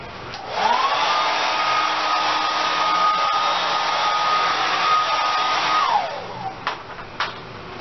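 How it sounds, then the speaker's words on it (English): A hair dryer blows on a 29-piece blonde 613 quick weave, starting about a second in with a steady, loud whoosh and whine, then cutting off near six seconds, followed by a few light clicks and handling sounds. "Then I blow dry it."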